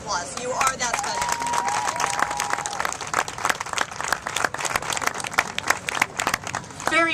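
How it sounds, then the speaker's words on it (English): A crowd at a Relay For Life opening ceremony in East Orlando applauds and cheers, dense clapping throughout with whoops and a voice briefly heard over it. "you deserve a round of applause"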